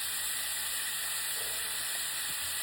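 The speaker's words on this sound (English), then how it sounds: "You hear that sizzling? That means we're gonna be searing that meat." Meat searing in hot oil with seasoning and mustard at the bottom of a soup pot for vegetable beef soup; a quiet, steady hiss and sizzle throughout, with no talk.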